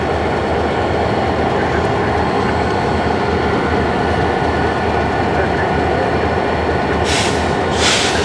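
A CN freight train hauled by four locomotives rolls past close by, a loud continuous rumble of wheels and wagons with faint clatter, and brief hissing bursts near the end.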